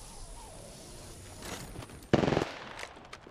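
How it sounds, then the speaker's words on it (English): A burst of rapid automatic gunfire in Apex Legends rattles out close and loud after quieter game ambience, followed by a few fainter shots and clatters. "Opening fire on the enemy."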